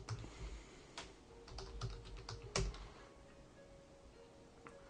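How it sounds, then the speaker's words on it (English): A command being typed on a computer keyboard on a Linux CentOS 7 system, a short run of faint, close key clicks over a low background hum. "we'll type in sudo yum groupinstall development."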